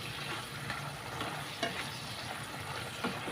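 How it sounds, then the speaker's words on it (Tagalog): Squid adobo simmers in vinegar in a pan while being stirred, a low steady sizzle with a few faint scraping taps, quiet and without speech. "haluin ko na ang aking adobong pusit."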